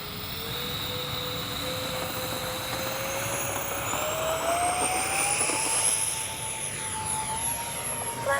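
An X-Fly RC model C-17 Globemaster jet on its maiden flight, taking off with flaps set: a loud, continuous turbine roar whose whine climbs steadily in pitch as the aircraft accelerates, heard alone without talk.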